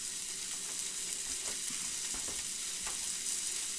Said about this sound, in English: Just going to put that face down onto the hot pan. This is going to give us a nice golden sear.